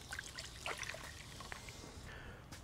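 Dark beer trickles and splashes into a pot for smoked chili, a light, uneven pour of bubbly dribbles at close range.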